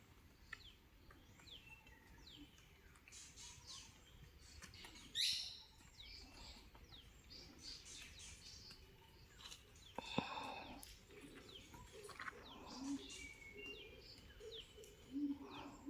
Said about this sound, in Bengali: কত অজানা পাখির আওয়াজ